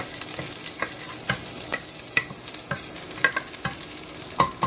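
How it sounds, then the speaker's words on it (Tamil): Ginger and garlic fry lightly in hot oil in a cooker for a South Indian chicken soup: a steady close sizzle broken by repeated scraping stirs, with no voices. "அதுக்கப்புறம் இஞ்சி பூண்டு போட்டிருக்கேன். லைட்டாக ரோஸ்ட் பண்ணிட்டு"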